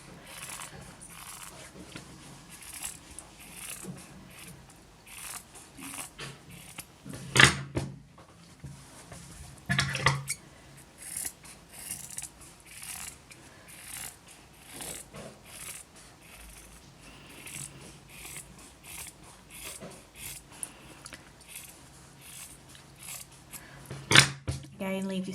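Scissors trimming the seam allowance of fabric on a sewing project, a series of soft snips and cloth rubbing close by, with a few sharper cuts standing out, while a person talks quietly over parts of it.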